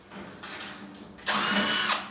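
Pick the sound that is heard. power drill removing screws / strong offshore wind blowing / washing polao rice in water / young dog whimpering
power drill removing screws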